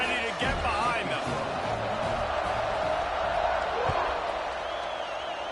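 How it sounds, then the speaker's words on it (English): Stadium crowd at a college football game between Oregon and Washington, roaring steadily at kickoff; a dense, continuous wall of noise fills the whole stretch at an even level. "this crowd now ready to get behind them"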